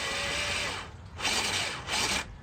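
A Surpass Hobby Rocket 540+ V2 5-slot 16T brushed RC crawler motor whines steadily and close, its pitch dipping and rising as the throttle is eased back and pushed again.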